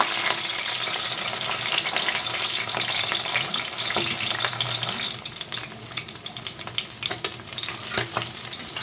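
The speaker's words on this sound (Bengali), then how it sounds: "মাছগুলোকে আমি খুব বেশি কড়া ভাজবো না হালকা করে ভেজে নেবো" Steady oil sizzling and crackling as katla fish pieces lightly fry, close and continuous, with occasional stirring or clinks toward the end; no voices.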